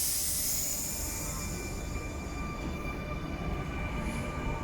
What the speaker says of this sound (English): I should get this set when this train departs successfully